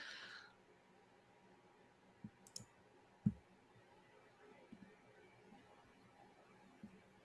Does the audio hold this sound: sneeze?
no